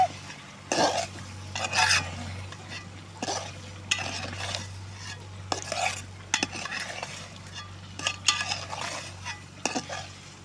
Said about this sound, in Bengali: আলু দিয়ে দিচ্ছি একটু নাড়াচাড়া করে দিচ্ছি